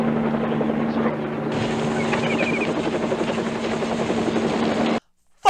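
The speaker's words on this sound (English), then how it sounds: "A sheriff's helicopter is exactly what this drug deal needs." A sheriff's helicopter in a film drones loudly with a steady rotor hum and buzz, a voice speaking over it, before the sound cuts out abruptly near the end.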